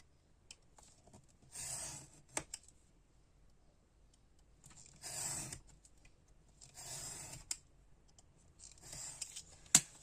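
Scissors cut through cardboard for a cartonnage desk organizer, making several soft, crunchy snipping bursts spaced a few seconds apart. They are quiet and close, with occasional light clicks between them.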